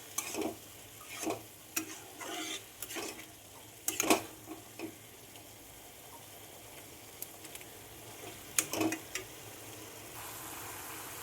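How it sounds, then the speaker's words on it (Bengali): Red amaranth greens being stirred with tempering spices in a pan, giving a soft sizzle with repeated scraping strokes and light clicks of the spoon, some louder than others, with no voices. "শাকগুলো ফোড়নের সঙ্গে খুব সুন্দরভাবে মিশিয়ে নিচ্ছি"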